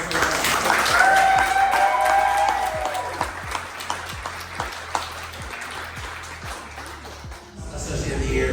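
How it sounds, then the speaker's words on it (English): Awards-ceremony audience at the Westin Nanea claps for honorees, a dense round of applause that starts strong and gradually thins into distinct individual claps before a fresh swell at the end. "Round of applause for those who are."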